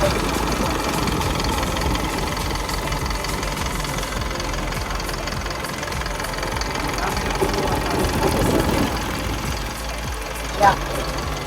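A steady, low engine rumble idles continuously throughout, with a brief clunk near the end.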